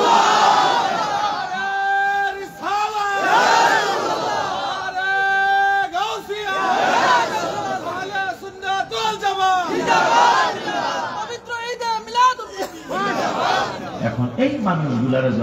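Large crowd at a religious sermon gathering chanting Allahu Akbar in response to a takbir call: repeated loud, rhythmic unison shouts rising and falling, with a dense mass of voices echoing.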